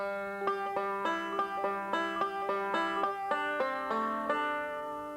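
Five-string banjo replaying two measures of forward and forward reverse rolls, quick evenly spaced plucked notes ringing close and alone, with a low sustained string beneath.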